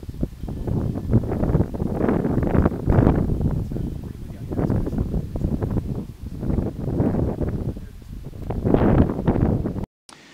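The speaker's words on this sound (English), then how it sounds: "It's pretty windy out here. It's gusting" Strong gusting wind buffets a microphone fitted with a DIY blimp and dead cat windscreen in rising and falling gusts, a loud rumbling roar throughout with no voices.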